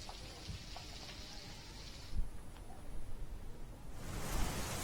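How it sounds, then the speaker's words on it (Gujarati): Steady, dense hiss of heavy rain pouring down in Chuda, with a brief thump near the middle and the downpour swelling louder toward the end. "ચૂડામાં ધોધમાર વરસાદ વરસી રહ્યો છે"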